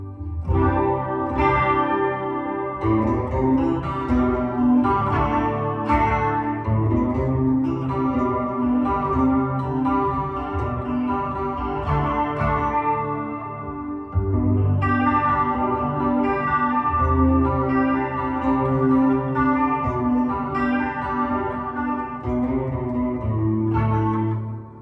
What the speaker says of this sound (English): So this is the bridge pickup, right? Tone all the way up, treble, everything.